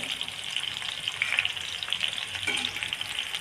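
Green chilies and garlic fry in a pan for an egg and fenugreek chutney, a steady close sizzle with a few faint stirring scrapes and no talking.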